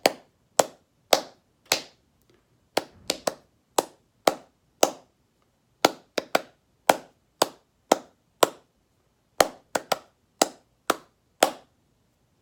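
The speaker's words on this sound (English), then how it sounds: "all I'm going to do is just clap it" Hands clap out the rhythm of a tune alone, about two dozen sharp, close claps in an uneven musical pattern with short clusters and pauses.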